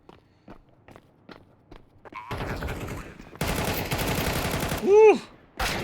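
Light footsteps patter across a Counter-Strike map, then an auto shotgun cuts in with loud, close blasts, a short volley first and then a longer sustained string of rapid shots.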